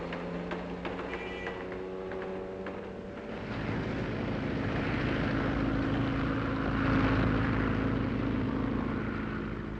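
A propeller airplane flies in the film Foreign Correspondent, its droning engine swelling louder after a few seconds and holding a broad, steady roar.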